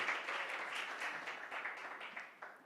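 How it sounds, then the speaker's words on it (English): Audience applause at a 2021 fellowship graduation ceremony, a soft wash of many hands clapping, fairly distant and fading gradually toward the end. "Can we give her another round of applause, ladies and gentlemen?"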